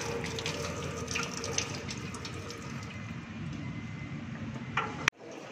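Running water hoses steadily over a removed Ford Ranger automatic transmission oil pan during a fluid change, a continuous splashing rush with a brief clatter near the end before the flow cuts off.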